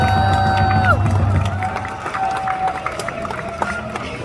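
A crowd at a political rally in Cheongju cheers and claps for Kim Jong-ho, a man from Cheongju. The steady, dense applause and cheering runs throughout, with a brief tonal sound early on.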